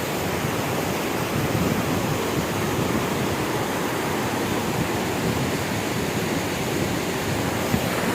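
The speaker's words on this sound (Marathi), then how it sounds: "तिथं काय आवाज आहे नाही तरी पाण्याचा आवाज तुम्ही ऐकू शकता." Water pours below a dam into a river, making a constant, loud, broadband rushing roar that stays even throughout with no voices over it.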